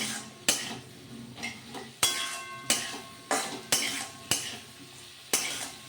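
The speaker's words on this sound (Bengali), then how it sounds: "এবার এটা নেড়ে চেড়ে মিশিয়ে নেবো" A utensil stirring potato, eggplant and onion frying in a pan, a rhythmic series of scraping clanks against the metal about once a second over a soft sizzle, with no talk.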